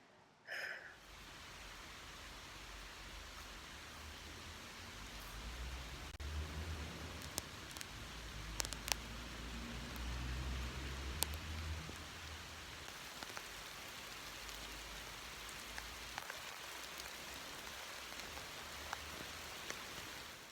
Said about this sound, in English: I think I'm gonna go outside and let myself be rained on for a bit before it stops